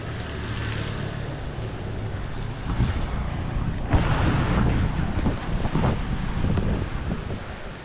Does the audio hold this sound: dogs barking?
no